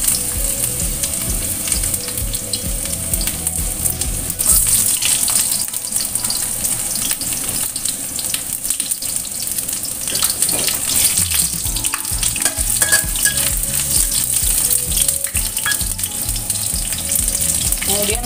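Shallots hit hot oil in a preheated wok and fry with a continuous, dense crackling sizzle that runs steadily and close for the whole stretch, alone without any talking.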